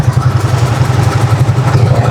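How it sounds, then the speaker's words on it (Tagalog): A motor tricycle's small engine idles steadily with a low, even throbbing hum, close by and continuous throughout. "Yan, tining ng andar ng makina nito mga travelers."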